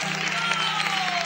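A church congregation at an evangelistic campaign night applauds in a dense, steady wash of clapping that fills the whole moment, with a faint sustained tone beneath and no clear voices on top.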